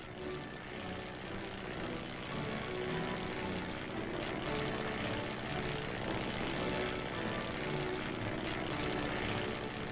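A military aerial observer's propeller airplane drones steadily overhead, a continuous loud engine and airscrew hum filling the whole stretch with no voices.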